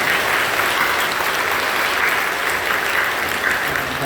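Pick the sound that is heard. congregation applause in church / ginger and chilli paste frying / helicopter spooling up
congregation applause in church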